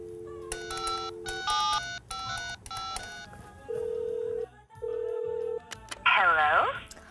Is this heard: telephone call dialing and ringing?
yes